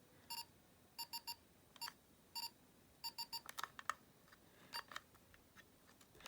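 Quiet electronic beeps from a small toy Star Trek tricorder, chirping in short pairs and clusters with irregular gaps, mixed with faint clicks; no voices.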